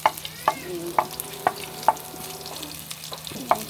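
Sliced garlic frying in a pan for fried tilapia, a soft background sizzle punctuated by regular spatula taps against the pan roughly every half second, close and clear, with no talk.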